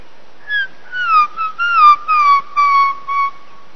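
A person whistles an imitation of a black-crowned tchagra's call: a clear, loud series of about seven descending whistled notes in a steady rhythm, with no other sound.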